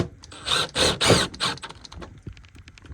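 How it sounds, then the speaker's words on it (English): Screws are driven during the installation of an Aerus air scrubber, making a run of close, squeaky ratcheting bursts that thin into quicker light ticks toward the end. "then you just pop the 4 screws in"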